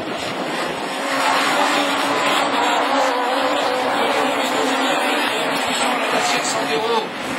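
Super 1600 rallycross cars including a Citroën Saxo Kit-Car race past at Châteauroux, engines roaring loud and sustained with a rising and falling pass, while a commentator talks over them.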